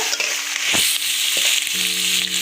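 Boiled chow mein noodles for egg chowmein stir-fried in a hot pan: a steady, close frying hiss with a few soft thuds of stirring and a faint low hum underneath; no voices.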